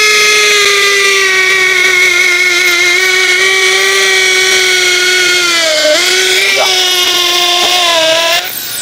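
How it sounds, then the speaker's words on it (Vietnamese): Workfix cordless hammer drill in hammer mode boring into a concrete block, a loud, steady, high-pitched motor whine with a slight pitch dip near the end before stopping, close up. "Dứt vô cục bê tông cho anh chị mình coi luôn."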